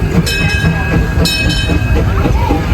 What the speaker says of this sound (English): There's the Disneyland Railroad going past.